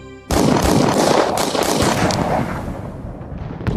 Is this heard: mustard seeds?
no